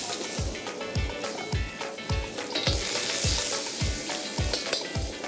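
Ginger sautéing in hot oil in a pan gives a steady, close sizzle, punctuated by regular thumps from stirring roughly every half second.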